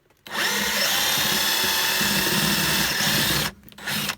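A power drill spins an extractor bit to back out a stripped screw, whirring steadily and loud for about three seconds, then stopping briefly before a short final burst.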